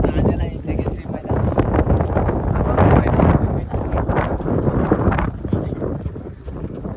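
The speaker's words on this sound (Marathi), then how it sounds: "तुम्ही पाहू शकता आवाज वाऱ्याचा" Strong wind roars and buffets the microphone in a continuous, heavy rumble at an open wrestling ground in Pedgaon, with a voice faintly audible beneath it.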